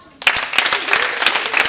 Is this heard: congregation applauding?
yes